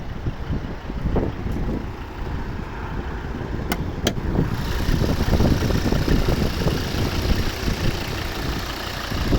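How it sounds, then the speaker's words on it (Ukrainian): A 2011 Volvo V60 R-Design with a 2.0 D4 diesel engine and automatic gearbox runs steadily, a continuous low rumbling idle close to the listener, with a couple of faint clicks early and wind-like noise over it. "Тепер послухаємо, як працює наш двигун знаменитий"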